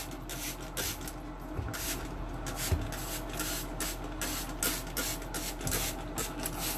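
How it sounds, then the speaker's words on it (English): Norwex bathroom cleaner is sprayed from a trigger bottle, giving a dense, continuous hissing with rapid repeated pump strokes, close and fairly loud. "Okay, so we're going to spray that."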